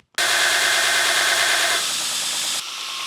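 A belt grinder starts abruptly and runs with a loud, steady whine and hum as it grinds a steel cross head guide for a steam stoker engine, the tone dropping slightly partway through, with no talking.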